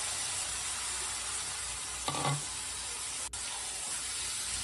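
Chicken gizzard and liver hit a hot pan for a Bengali Sunday lunch curry, giving a steady close sizzle and hiss of frying with a brief louder spatter midway, with no talking.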